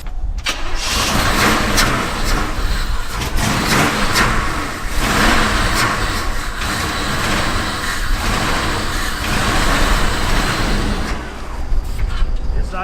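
A project truck engine revs loudly and steadily, running only on brake cleaner with the injectors not firing, a continuous close roar that rises and falls for the whole stretch, with voices underneath.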